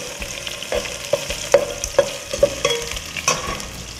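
Thinly sliced onions frying in a pan with curry leaves for biryani, a steady close sizzle punctuated by regular scraping stirs roughly every half second, with no voices.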